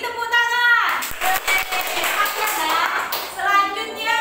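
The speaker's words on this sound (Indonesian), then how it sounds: "Beri tepuk tangan." A classroom of children claps together, a short burst of hand claps running for a few seconds between a woman's spoken words at the start and end.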